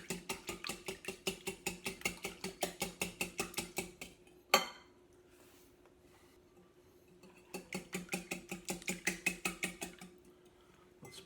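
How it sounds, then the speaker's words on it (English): A whisk clatters rhythmically against a bowl while stirring milk batter for a Dutch baby, a fast steady run of ticking strokes, a pause with a single knock, then another burst of quick strokes. "Let's stir that up a little bit with the whisk so that the flour will go in smoother."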